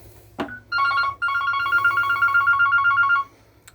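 A telephone rings inside a 2016 Coachman Vision 450/2 caravan: after a short knock, a bright electronic ring warbles in two bursts, the second long and pulsing, then stops.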